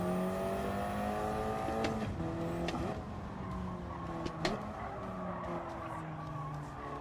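A race car in a Tokyo driving video game, pushed hard on hard tyres, its engine droning and revving continuously with tire squeal and skidding throughout, loud and close.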